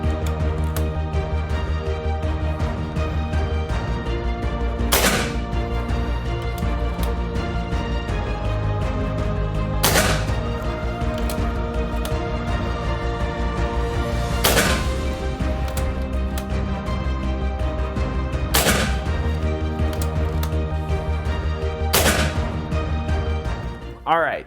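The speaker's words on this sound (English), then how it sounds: "there we have 5 shots at 20 yards" A Daystate Renegade HP bullpup air rifle fires five Emperor 50-grain pellets at a 20-yard target. Five sharp, crisp cracks ring out roughly five seconds apart over a steady, faint background hum.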